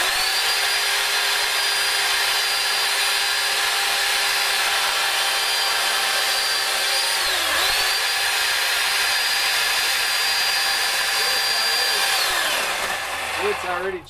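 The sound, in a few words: chainsaw carving into end-grain wood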